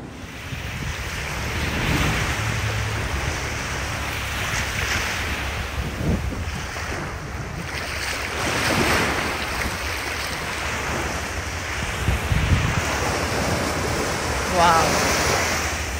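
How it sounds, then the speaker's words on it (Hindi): Sea waves rolling onto the shore at Kochi, Kerala, a steady broadband surf wash lasting throughout with gusts of wind buffeting the microphone and a few louder swells breaking near the middle and end. "समुंदर की आवाज़, समुंदर की लहरें."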